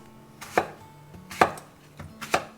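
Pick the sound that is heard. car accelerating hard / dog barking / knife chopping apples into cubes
knife chopping apples into cubes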